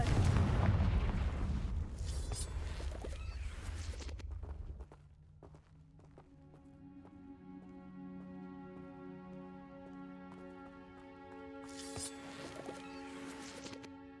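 A Confringo blasting spell goes off in Hogwarts Legacy as a loud, heavy booming burst for about four seconds, then fades into a sustained tonal hum with another brief crackle near the end.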